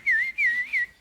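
A man whistles a signal, three clear, close, warbling notes that rise and fall slightly, separated by brief gaps, with nothing else audible.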